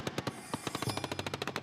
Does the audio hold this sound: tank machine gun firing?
yes